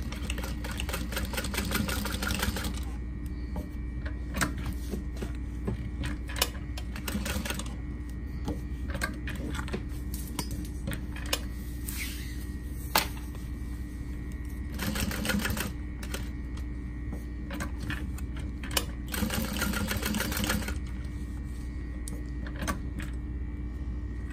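A sewing machine runs a box stitch close to a snap hook on a barrel bag, its motor whirring and needle clattering steadily, broken by several brief pauses and restarts.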